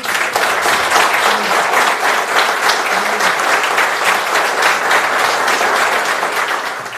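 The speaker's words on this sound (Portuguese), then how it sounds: "recebeu o título de cidadão araraquarense sob os aplausos da plateia" An audience applauds steadily, a dense wash of many hands clapping at once, sustained throughout before easing slightly at the end.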